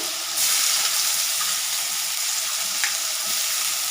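Onions frying in hot oil with bay leaf and dried chili, a steady bright sizzle that swells as the onions hit the pan and carries on evenly with faint stirring scrapes, close and alone.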